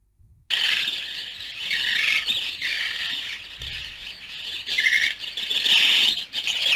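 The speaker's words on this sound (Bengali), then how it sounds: "পাখির কিচির মিচির শব্দ" Busy AI-generated bird chirping and squawking, a dense chorus of high tweets and calls running continuously after a brief silent start.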